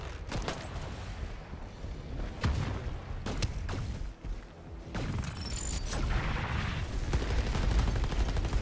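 Gunfire in the shooter game Shatterline during a boss fight with the Queen, repeated sharp shots and bursts over a dense, rumbling mix of game effects, loud and continuous throughout.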